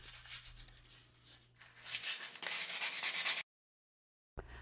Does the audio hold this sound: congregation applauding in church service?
no